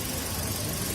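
Engine of a Toyota Calya 1.2 G manual with its 1200 Dual VVT-i motor idling, a steady, dense, fairly loud hum and rumble with no other sound.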